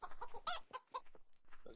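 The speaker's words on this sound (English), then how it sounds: "Chicken." A chicken in the Minetest video game clucks in a quick, irregular series of short, fairly quiet calls, nearly continuous across a couple of seconds.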